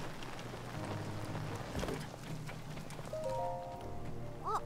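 Steady rain falling across the outdoor world of The Legend of Zelda: Tears of the Kingdom, a continuous close wash of drops on surfaces with a brief tonal game chime near the end and no talking.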